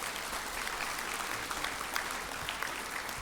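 Steady applause from an audience cheering high school students, dense and even, heard at a moderate distance with no voices over it.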